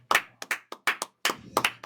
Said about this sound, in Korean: 박수. 기립